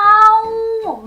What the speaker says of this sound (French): comme un chat qui fait miaou